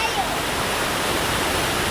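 A river rushes along in a dense, steady wash of flowing water, loud and continuous for the whole moment.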